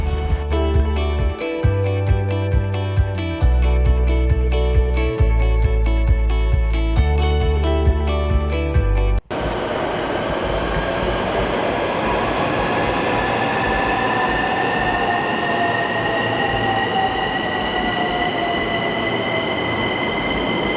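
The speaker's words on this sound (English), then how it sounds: "we are going to take the Takasaki line train" A Takasaki line commuter train in Japan runs close and loud, with steady rumbling and rising, drawn-out wheel squeals after an opening stretch of structured music.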